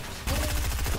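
Rapid gunfire in a multiplayer shooter video game, with several quick, loud reports in close succession over about a second.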